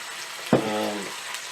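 Ginger and garlic fry in a pan with turmeric powder and salt, a soft steady sizzle broken by one sharp, ringing metallic clink that fades over half a second.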